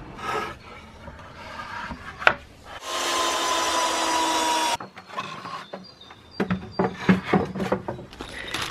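A cordless drill-driver running while a wooden raised planter is assembled makes a single two-second motor whir, surrounded by wooden knocks, scraping and handling noises close by.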